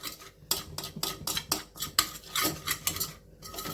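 A metal utensil stirs and scrapes whole wheat flour being roasted in butter in a pan, producing a steady series of sharp, rhythmic clinks and scrapes heard up close with no talking.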